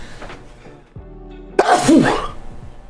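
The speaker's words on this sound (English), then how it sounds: "I gotta sneeze" A single loud, sharp sneeze bursts out after a quiet stretch with a low steady hum, followed by a brief breathy tail.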